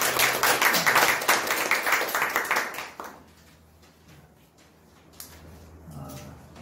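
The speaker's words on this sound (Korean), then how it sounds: "박수로" A church congregation at a Sunday worship service applauding, dense loud clapping for about three seconds that then quickly fades to a few scattered claps and room quiet, followed by a brief voice.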